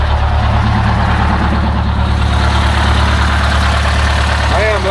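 A 1955 vehicle's engine idling while it warms up, a loud, steady low rumble with an even pulsing beat, close and unbroken throughout, no talk over it.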